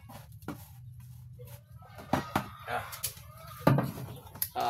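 Chickens cluck and peck around a basin of feed poured out for them, a busy farmyard flock close by with scattered sharp clucks and scratching, under occasional low voices.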